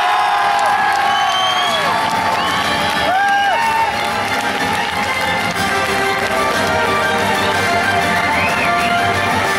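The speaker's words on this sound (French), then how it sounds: "là aussi un tonnerre d'applaudissements pour Aurore Guérin." Outdoor crowd at the French cross-country championships at Les Mureaux, cheering and clapping continuously with shouts and whistles, loud and dense throughout, with children's voices and a bit of talk mixed in.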